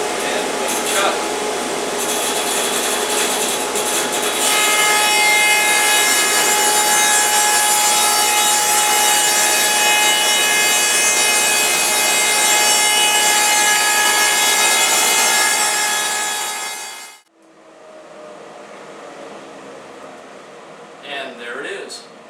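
A table saw fitted with a dado set cuts a 3/4 inch wide dado in wood with a dust collector running: a loud, sustained whine lasts about seventeen seconds, then winds down to a quieter hum.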